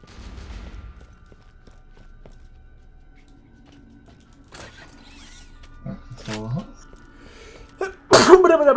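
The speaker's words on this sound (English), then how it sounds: "You're passing your sneezing on to me." A character in the video game Borderlands 2, Captain Scarlett DLC, lets out a sudden loud sneeze at the end, preceded by quieter game sounds and scattered clicks.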